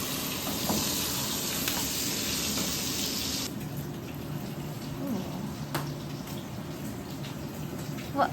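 A pork chop frying in a pan gives a continuous sizzling hiss, louder at first and then settling to a quieter steady crackle, with no talk.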